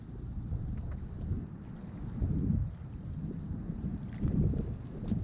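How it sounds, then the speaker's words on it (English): Wind gusting over an open field during a windy goose and duck hunt, a steady low roar with louder surges swelling twice, buffeting close against the microphone with no talk. "That's just wind, man."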